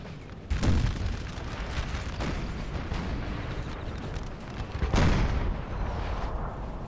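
Artillery firing in the Napoleonic battle game Napoleon: Total War, two heavy cannon booms standing out from a constant roar of distant gunfire and battle rumble, with no voices.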